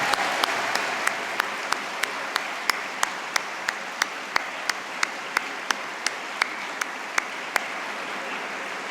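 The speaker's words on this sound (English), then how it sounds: "I think you should give yourself a round of applause." A graduation ceremony audience claps continuously, forming a broad wash of applause, with sharp individual claps standing out at a fairly regular pace near the front.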